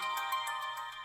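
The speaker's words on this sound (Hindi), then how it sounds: "देख लो किसकी कॉल है, अटेंड कर लो।" Mobile phone ringtone for an incoming call, a steady electronic melody with regular pulsing beats repeating quickly at moderate volume, with no talking over it.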